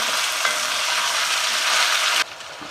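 Cucumber and onions cook over fairly high heat for cucumber curry, producing a loud, steady, dense sizzle that drops abruptly to a quieter frying hiss near the end, with no voices.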